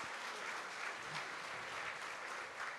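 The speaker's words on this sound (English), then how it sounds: "can we give a round of applause to Enbridge for sponsoring the lunch today?" An audience at a State of the City lunch applauds the lunch sponsor, Enbridge, with continuous dense clapping that stays steady and moderately loud for a few seconds.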